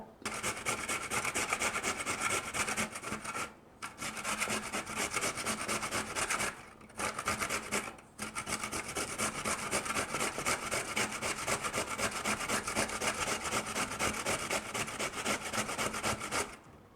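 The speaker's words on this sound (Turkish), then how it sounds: "Rendemizin ince kısmıyla rendeleyelim patates ve soğanımızı." Potatoes and onions rubbed against the fine side of a hand grater, a fast rhythmic rasping scrape repeating steadily, close and alone, with a few brief pauses between runs.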